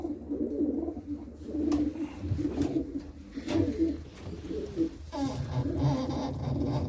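Pigeons coo in repeated low, throaty phrases at close range amid a loft's soft background noise, several birds overlapping across the stretch.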